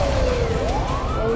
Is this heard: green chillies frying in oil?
no